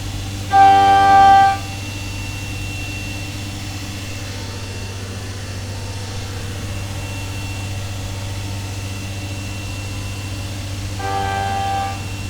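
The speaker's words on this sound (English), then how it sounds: "Definitely much easier boring cases in a CNC machine than in a vertical mill manually." CNC machine boring Twin Cam engine cases for a 124 cubic inch build: a steady low machine hum runs throughout, with a loud tonal squeal at the start and a fainter one near the end.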